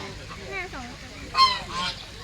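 Waterfowl honk and quack several times nearby, harsh nasal calls repeating over a steady background hum, with faint voices.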